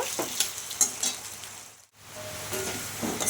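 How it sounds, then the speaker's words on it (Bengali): Potato pieces fry in a pan while being stirred, a continuous sizzle broken by scraping stirs, with a brief quiet dip partway through. "আমি প্রথমে আলুটা দিয়ে একটু ভালো করে ভেজে নেব"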